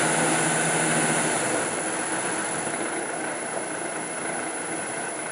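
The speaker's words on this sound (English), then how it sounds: "from the chattery gears, I think, because there's nothing from here" A Land Rover R380 gearbox on a test rig runs continuously with a dense, loud mechanical whine and rattling chatter from the gears, steady throughout with no speech.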